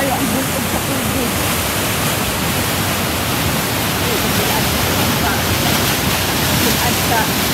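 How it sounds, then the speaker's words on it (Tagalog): Floodwater roars in a dense, unbroken torrent after a dam failed during Typhoon Agaton. The rush is loud and steady throughout, with no pauses or breaks. "Sa bigla ay ang bulog sa tubig."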